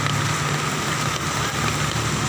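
Steady downpour of heavy monsoon rain amid flooding in Meycauayan, Bulacan, heard as a loud, continuous broadband hiss with a faint low rumble beneath and no voices.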